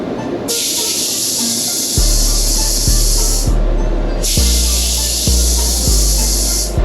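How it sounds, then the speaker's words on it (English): Spray gun laying down pearl white car paint on a panel, two long steady hissing bursts with a short pause between, close and loud, with low compressor thumps pulsing underneath. "I'm gonna go right back over this with another light coat of pearl"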